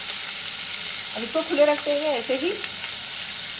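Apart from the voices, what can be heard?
chicken liver frying in a pan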